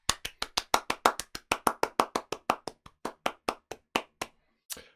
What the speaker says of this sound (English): It's time for Max's Round the World round of applause